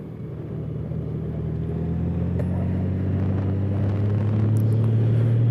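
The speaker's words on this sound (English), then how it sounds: "Look at all this traffic." Steady low rumble of road traffic on a busy commuter route, engines and tires droning continuously and growing slightly louder, with no talk over it.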